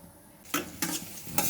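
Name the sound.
cashews frying and being stirred in ghee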